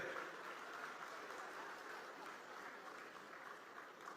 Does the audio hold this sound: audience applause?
yes